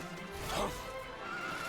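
A spooked horse in a game lets out a whinny that rises and peaks about midway through, loud and close, with a steady ambient hum beneath and no speech.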